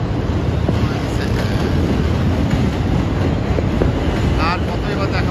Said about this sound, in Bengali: এই যে 7 ট্রেন, এই যে 7 লেখা আছে কপালে।